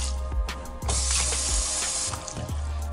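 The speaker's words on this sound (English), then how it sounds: "Now we're just gonna hit these with some water, rinse them out." Water runs from a kitchen tap over cut potatoes being rinsed for poutine, a close, continuous splashing rush with soft knocks as the potatoes are moved about.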